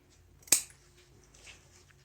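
Scissors give one sharp, close snip through the fabric seam allowance of a hood being sewn for a field jacket, followed by quiet handling noise.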